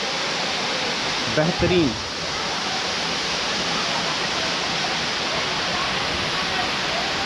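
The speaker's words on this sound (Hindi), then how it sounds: "काफ़ी खूबसूरत सा वाटरफॉल यहाँ से हमें प्राप्त हो रहा है" Sidhkhol waterfall near Kasdol, Chhattisgarh, set in forest, roars as a steady, loud broadband rush throughout, with a brief spoken word early on.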